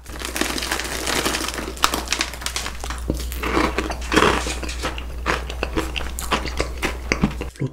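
A Lotus cream waffle is bitten and chewed up close for a real-sound mukbang, giving steady, dense crunching and crinkly chewing with soft mouth noises throughout and no talking.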